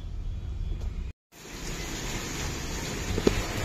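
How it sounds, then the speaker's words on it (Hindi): Heavy rain falls steadily as a dense, even hiss with low rumble, briefly cut out by a short gap before resuming, with one faint knock near the end. "गाइस फुल बारिश हो गई है"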